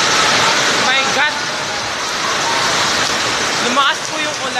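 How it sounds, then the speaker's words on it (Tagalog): Heavy rain pouring down outdoors by a court, a loud steady roar of dense rainfall filling the whole span, with faint brief squeaks or voices rising through it. "Biglang umulan ng malakas."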